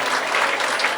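Congregation clapping hands together during a live church worship session in Delhi, a dense, steady wash of many hands applauding throughout, loud and close with no gaps.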